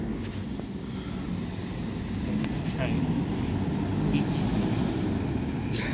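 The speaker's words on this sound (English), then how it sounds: "Very noisy E200, I have to say." A noisy E200 bus, number 37196, idles and pulls around Scunthorpe bus station, a steady loud engine drone with brief hisses and clatter from the surrounding bus station.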